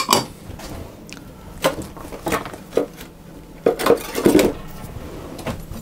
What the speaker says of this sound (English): the baking soda, and the ground almonds, and I'm going to mix those together